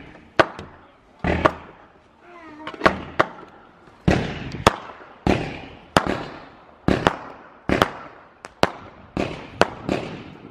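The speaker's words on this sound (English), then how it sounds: "Nag-fireworks ang aming neighbor, guys." Neighbors' fireworks going off outdoors in a rapid series of sharp, loud bangs and crackles, about a dozen blasts over several seconds with short echoing tails between them.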